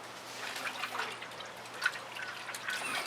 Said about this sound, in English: I think I'm going to rinse my rag out